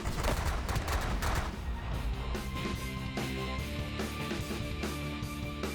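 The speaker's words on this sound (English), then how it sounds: "now let's focus fire on the turrets that we actually want to destroy" Weapons fire at enemy turrets in the space strategy game The Last Federation, a dense, continuous barrage of shots and impacts layered over game music, loud throughout with no one talking.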